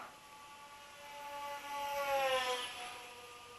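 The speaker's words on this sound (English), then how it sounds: "Now let's try some full throttle." A small mini hopper model aircraft flying at full throttle, its motor whining with a thin, harmonic tone that rises and falls in pitch as it passes, moderately distant and steady, with no talking.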